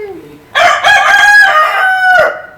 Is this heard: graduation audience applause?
no